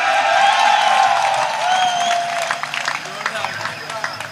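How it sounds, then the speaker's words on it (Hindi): A crowd at a Hindi poetry recital breaks into applause and cheering, loud and dense at first with a sustained voice over it, then thinning into scattered claps and murmurs. "ताली बजाओ जोर से यार।"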